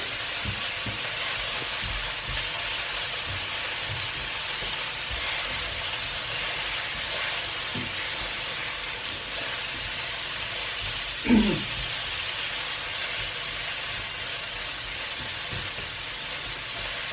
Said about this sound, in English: we need to cook them for like 3-4 minutes so that they take on a bit of color